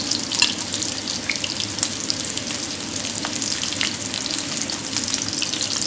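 Kingfish pieces frying in hot oil and being lifted out into a bowl, producing a dense, continuous crackling sizzle with occasional sharp ticks, and no voices.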